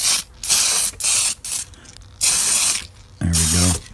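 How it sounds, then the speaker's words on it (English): Tamiya TS80 flat clear coat hisses from an aerosol spray can in five bursts, each about half a second long, with short pauses between them. A low mechanical rattle closes the sequence. "I'm shaking up my TS80 flat clear from Tamiya, and I'm just gonna shoot some flat clear on here."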